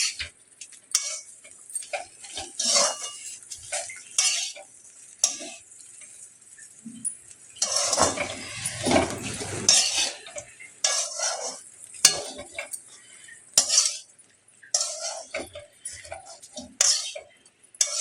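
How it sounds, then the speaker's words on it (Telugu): A spoon mixes boiled black chickpeas with salt in a bowl, making irregular close scrapes and light metallic clinks in short bursts, with a longer busy stretch midway and quiet gaps between. "కొంచెం సాల్ట్ వేసుకొని ఒక్కసారి మిక్స్ చేసుకుంటే సరిపోతుంది"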